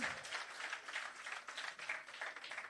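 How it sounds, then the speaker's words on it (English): Applause at an outdoor handing-over ceremony for a shelter recovery programme: a faint, distant patter of many people clapping, steady and soft throughout. "Give them a hearty round of applause, ladies and gentlemen."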